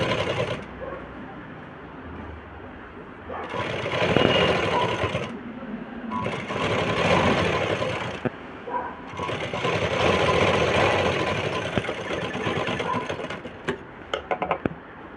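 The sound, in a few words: sewing machine stitching a frock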